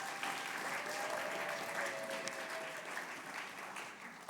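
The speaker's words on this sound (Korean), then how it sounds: "자, 박수." A church congregation applauds during a Sunday service certificate presentation, steady even clapping that fades slightly toward the end, with a faint voice beneath.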